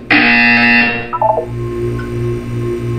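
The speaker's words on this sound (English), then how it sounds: "You will hear a buzzer." A buzzer in the Portal 2 video game sounds a loud, harsh electronic tone for about a second, followed by short descending beeps and a lingering low hum.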